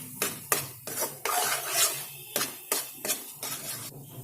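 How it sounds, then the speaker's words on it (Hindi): Mawa being stirred and roasted in a pan, making repeated scraping strokes of a spoon against the metal in an uneven rhythm, close and fairly loud. "आप चलाते रहिए।"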